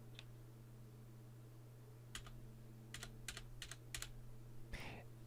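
Quiet, close keystrokes on a computer keyboard while configuring a network switch, coming in a few quick clusters of clicks over a steady low electrical hum, with no talking.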